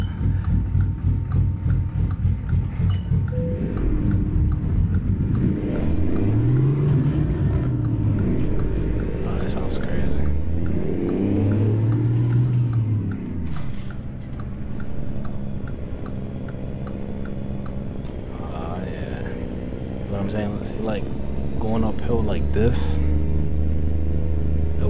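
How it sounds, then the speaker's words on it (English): A Kenworth W900 truck with a 1088 hp Cummins engine, hauling a very heavy special-transport load uphill, produces a deep, loud engine rumble with a steady rhythmic ticking. Rising and falling tones from the drivetrain come through under the rumble. "I just love the way that engine is like tick, tick, tick, tick, tick."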